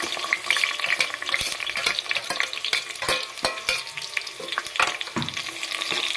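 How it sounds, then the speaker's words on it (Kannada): Onions frying in hot oil in a pot, a bright close sizzle broken by repeated sharp stirring clacks and scrapes of a spoon against the vessel, with no voices. "ಕಾದ ಮೇಲೆ ಈರುಳ್ಳಿಯನ್ನು ಹಾಕಿಕೊಳ್ಳೋಣ"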